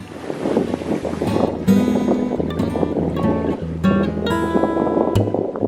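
A sailboat running fast under spinnaker in a fresh breeze, with constant wind rush and water noise around the hull and tonal creaks from the rigging and fittings, loud and close.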